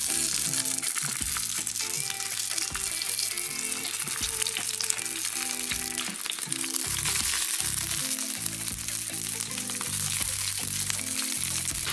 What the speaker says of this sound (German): Das Öl ist heiß, braten wir unsere Krautwiegel an.